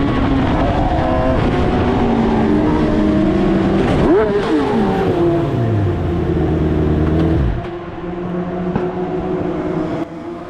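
A race car circulates Cadwell Park circuit through the Hall Bends, its engine loud and close, revving and shifting with rising and falling pitch before easing off near the end.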